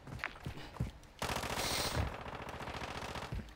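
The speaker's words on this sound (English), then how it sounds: "Someone just shot at me." Automatic gunfire in the video game Call of Duty, a sharp burst of rapid machine-gun shots after a few isolated reports, rattling on loudly and steadily to the end.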